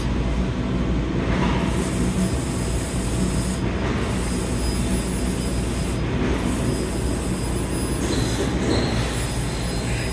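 Constant grinding, scraping machine noise with a rough mechanical rumble as a machine cuts the film layer on stainless steel, steady throughout with brief high squeals every couple of seconds.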